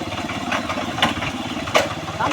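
A tractor engine churns steadily through a muddy paddy field while the field is puddled for rice transplanting. It is a close, continuous mechanical drone with a rough rumble and no break.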